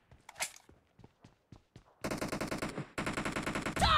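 Rapid automatic gunfire from Battlegrounds Mobile India gameplay: a few sparse single shots, then two sustained loud bursts of machine-gun fire, the last one rising to a heavy blast at the end.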